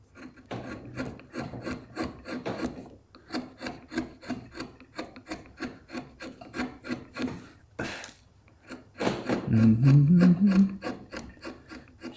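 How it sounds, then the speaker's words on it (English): Steady, close rubbing strokes of sandpaper on a wooden carving, repeated in a regular back-and-forth rhythm, with a brief pause and a louder, heavier stretch of sanding toward the end, no talking. "And then I'll sand it again."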